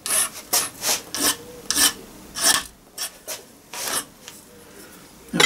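A hand file rasps on metal connecting rods held in a vise for a Gauge 1 live steam scratch build, giving about a dozen close, rhythmic strokes with short pauses between them and no talking.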